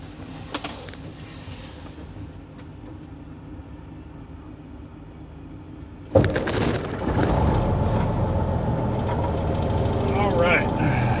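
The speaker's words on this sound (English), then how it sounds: "I'm gonna crank my engine on because I'm cooking and I'd rather have my engine running while I'm cooking" A truck engine cranks and catches partway through, then settles into a steady, fairly loud idle with a low rumble; quieter background noise comes before the start.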